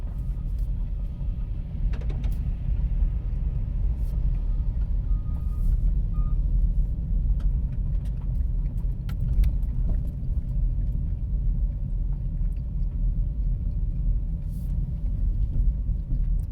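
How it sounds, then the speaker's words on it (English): Garbage truck idling with a deep, steady engine rumble close by, along with faint intermittent higher tones like reversing beeps, and no talking. "Why are garbage trucks so loud and noisy, man?"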